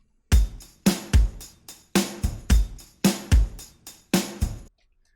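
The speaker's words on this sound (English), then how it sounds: "So I have this drum loop here." A drum loop of kick drum and hi-hat plays alone, close and punchy, with about eight evenly spaced hits of deep kick thumps topped by crisp bright hi-hat ticks, ending cleanly in silence.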